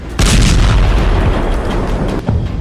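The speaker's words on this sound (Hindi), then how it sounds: "ये धमाके सीरिया की राजधानी दमिश्क से 250 किलोमीटर दूर तारतूस में हुए।" Explosion in Tartus, Syria: a sudden loud blast hits after a brief quiet moment, then a dense roaring rumble rolls on with a second thump near the end, with no voices.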